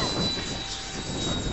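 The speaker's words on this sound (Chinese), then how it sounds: "仲有红飞机啊！" A Hawker Hunter jet carrying drop tanks roars overhead as a steady, broad rumble that holds at constant loudness throughout, with no voices.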